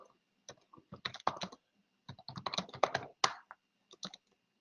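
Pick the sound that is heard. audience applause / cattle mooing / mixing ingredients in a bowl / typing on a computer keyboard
typing on a computer keyboard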